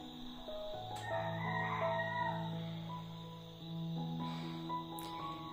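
A rooster crows in long drawn-out calls among clucking chickens, fairly close and steady, with a second crow starting near the end.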